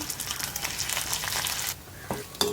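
Garlic and curry leaves fry in oil, crackling and sizzling steadily in a hot pan, then quieting briefly before a few sharper pops and a stir near the end.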